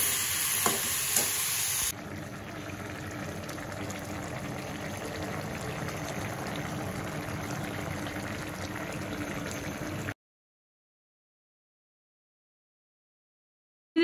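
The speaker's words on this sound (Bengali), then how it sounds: "এখন এটাকে কষাবো, কষিয়ে একটু জল দিয়ে একটু হালকা চিনি দিব" Vegetables being stir-fried in a pan, with steady sizzling and scraping of stirring for about eight seconds after a brief louder start, then silence.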